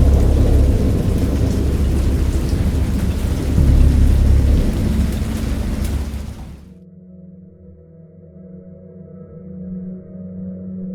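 Heavy rain and a deep rolling rumble of thunder from the video game Dagon roar loudly, then cut off abruptly, leaving a faint low hum.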